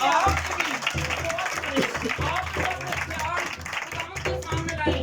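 A church congregation claps steadily for a brother, with the applause running continuously under a speaking voice and background sound.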